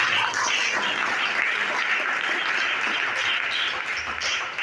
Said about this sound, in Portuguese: Dá o sinal com palmas bem alegre nesta noite.